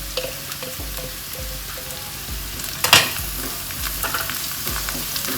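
Shallots and a large onion sauté in a pan, producing a constant crackling sizzle with regular soft knocks of stirring and one sharper clatter midway, close by and with no talking.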